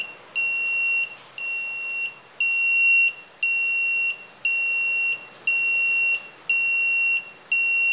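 Buzzer in a 555 timer circuit beeping in a steady, regular on-off pattern, eight loud, even electronic tones about one second apart with no other sound.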